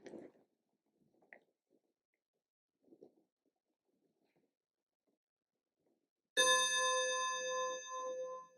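A single bell is struck once and rings out in a clear, sustained tone that slowly fades, following a stretch of near silence with a few faint rustles.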